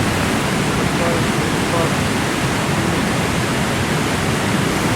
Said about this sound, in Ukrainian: Коли ви спуститесь до підніжжя цього водоспаду, е, шум е, води настільки сильний